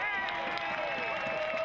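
A home rugby crowd at a stadium cheering after its team scores a try, a broad roar of voices and whoops with a commentator talking over the top.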